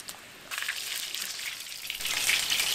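Flaky ground beef empanadas deep-frying in hot oil, a steady bright crackle and sizzle that swells louder partway through and stays close and continuous, with no voices over it.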